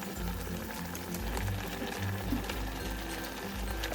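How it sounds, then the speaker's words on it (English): Water with ramen noodles and soup base bubbling in a pot on the stove, a steady close rolling boil with low churning and dense fizzing that holds constant throughout, with no voices. "When it's boiling again, add the ramen noodles, soup base."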